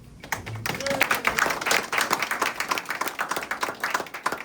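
Scattered, light clapping from a small crowd at a hospice anniversary ribbon cutting, fairly quiet and uneven, running for a few seconds without speech.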